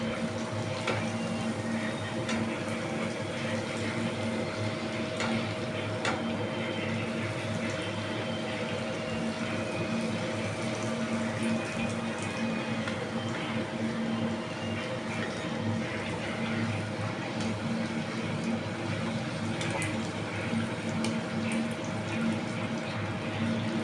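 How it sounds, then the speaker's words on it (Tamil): Street-style pani puri puris deep-frying in hot oil, a steady dense bubbling and crackling that carries on evenly throughout, close by, with a voice talking over it. "எண்ணெய் நல்லா காய வச்சுருக்கேன். இப்போ பொரிச்சு எடுத்துக்கலாம்"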